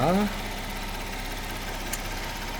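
A 2020 Kia K7 Premier's 3.0 GDI gasoline engine idles with an even, steady hum, heard up close after a brief voice at the start.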